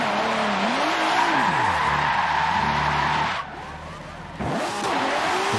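Car drifting in Forza, a racing video game, with long wavering tire squeals over a revving engine, a short lull, then the squeal returns, close and loud.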